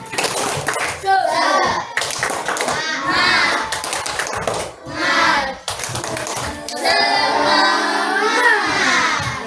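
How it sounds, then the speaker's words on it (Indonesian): Children in a classroom perform a rhythmic clapping chant, bursts of patterned hand claps alternating with sung or shouted young voices, loud and close, with brief pauses between phrases. "Ayo tepuk semangat, tepuk semangat."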